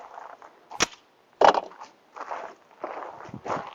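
A Tisas PX-9 Gen3 pistol is thrown across a room, landing with sharp clattering impacts followed by scattered scuffing knocks.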